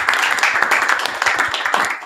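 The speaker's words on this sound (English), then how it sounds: "Let's give it a round of applause." An audience at the close of a panel on technology and renewable energy in mining, hosted at BongoHive, breaks into steady, moderately loud applause, the clapping filling the room without pause.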